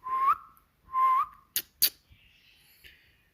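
Young parrot chicks being hand-raised at home give two drawn-out whistling calls, then two sharp clicks and a fainter, higher chirp, close by in a quiet room.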